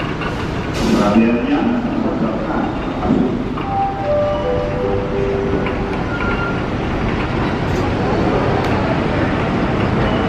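A Siliwangi passenger train arriving at a station rumbles steadily nearby with rhythmic wheel clatter and brief tonal squeals, while faint voices murmur in the background.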